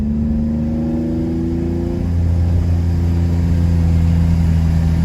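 A 2008 Honda Accord V6 and a 2003 Nissan 350z DE, both 3.5-liter V6 coupes, racing: loud, continuous engine drone with rising revs and a deepening note as they pull, heard from inside a car with no talk.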